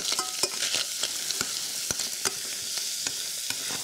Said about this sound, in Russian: Вот здесь я должен обжарить все это